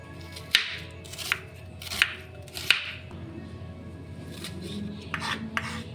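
A small onion being finely chopped on a board in a home kitchen, several crisp knife strikes spaced apart, then a couple more near the end, close and clear with no talk.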